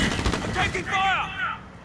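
Gunfire in the Call of Duty: Modern Warfare video game: a burst of rapid shots blends with sweeping, whistling tones and other game effects over a steady backdrop of battle noise.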